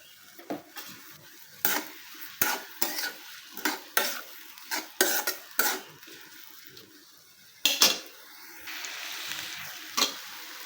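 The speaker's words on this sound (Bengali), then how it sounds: "এবার আমি কড়াইয়ে পেঁয়াজ আর সরিষার তেল দিয়ে দিলাম।" Onions with salt fry in mustard oil in a wok, a low sizzle running beneath repeated close scraping and knocking stirs of a spatula against the metal, coming in uneven bursts.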